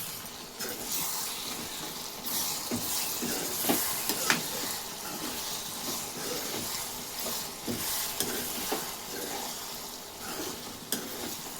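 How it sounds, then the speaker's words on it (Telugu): Potato curry with onions, green chillies and tomatoes frying in a pan while being stirred, a soft continuous sizzle with scraping spoon clicks and small clatters, close and without talk. "చక్కగా ఫ్రై అయిపోయిందండి. ఒకసారి తిప్పుకుందాం."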